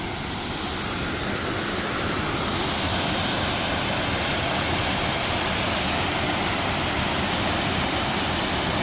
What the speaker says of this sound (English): this is waterfall number 1